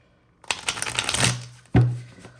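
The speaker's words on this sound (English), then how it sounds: "Let's shuffle this one more time." Tarot cards are shuffled in two bursts: a long riffling flutter of about a second, then a short pause and a sharp second shuffle ending in a soft tap. The sound is close and clear, with no talking.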